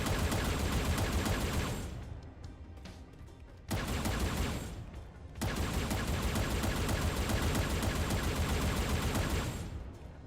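A plasma rifle fires in modded Halo 4 in sustained rapid bursts with two short pauses, loud and continuous in the foreground, with no talk.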